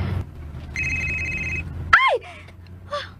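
A mobile phone rings with a brief, steady electronic tone. The ring sits close and clear over low background sound and is followed by short vocal sounds.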